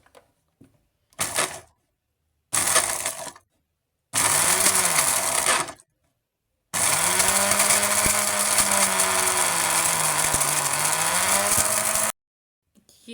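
An electric kitchen blender grinds spice masala in bursts: two short pulses, then a longer whirring run and one sustained grind of several seconds, loud and close with no talking.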